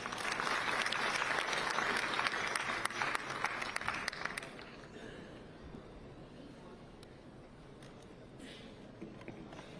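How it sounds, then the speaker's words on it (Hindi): Audience at a National Doctors Day event in Chhattisgarh applauds the health and family welfare minister, loud sustained clapping for about four seconds, then fading to a thinner scattered patter. "आपकी जोरदार तालियों के साथ"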